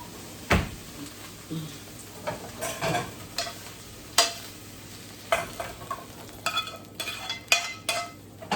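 Vegetables and franks are stir-fried in a pan, with a spatula giving repeated sharp scrapes and knocks against the metal over a soft, steady sizzle, close and intermittent.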